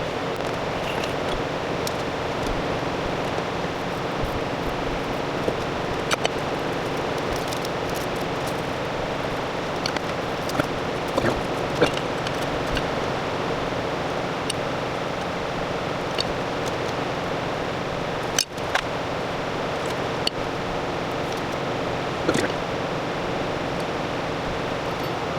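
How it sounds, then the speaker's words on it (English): Electric fan whirring steadily and close in a hot workshop during work on a Toyota E153 swap into a Mazda BG Ford Escort GT, a continuous broadband hiss with faint clicks on top and no talk. "Sorry about the fan noise"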